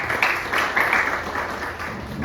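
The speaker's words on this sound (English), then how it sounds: "can we please have a huge round of applause for him" An audience at a poetry interview event in Bangalore claps for a guest, a steady, moderately loud ripple of applause with slight surges throughout.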